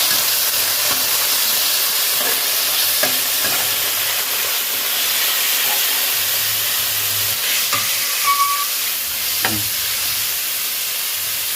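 Marinated pork stir-frying in a wok with fried garlic, a steady loud sizzle and hiss with scattered scrapes and clatter of the spatula throughout, no voices.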